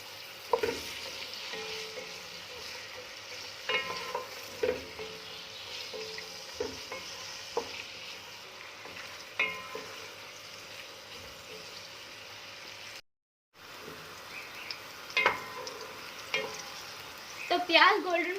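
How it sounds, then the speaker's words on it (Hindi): Two large chopped onions fry in half a cup of ghee in a pot, a soft continuous sizzle broken by scattered scrapes and clinks of stirring, with a brief dropout and a louder bubbling crackle near the end. "अब हम इसके अंदर आधा कप घी डालेंगे, तो इसमें 2 बड़े साइज के कटे हुए प्याज डाल देंगे और इसे गोल्डन ब्राउन कर लेंगे।"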